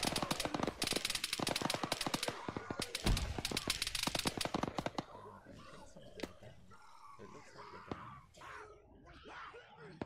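A PKP machine gun in ARMA 3 fires long, rapid bursts of sharp cracks for several seconds, then the shooting stops and quieter ambient noise with scattered movement follows.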